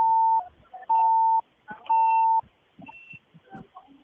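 A mobile phone rings through an online call, three loud sustained electronic tones recurring about once a second with brief gaps, followed by fainter chirpy notes and scattered low clicks.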